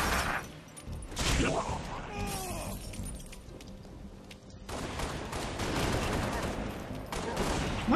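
Gunfire in the Halo: Reach video game: bursts of shots and sharp cracks that keep going throughout, mixed with explosions and sparkling effects, fairly loud and steady, with game voices partly under the firing.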